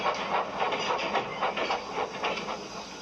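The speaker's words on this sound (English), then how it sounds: "Edward picked up steam and proudly puffed past Spencer." A steam engine puffs along the rails, a continuous hissing chuff with a rapid rhythmic beat, fairly loud and steady with no voices over it.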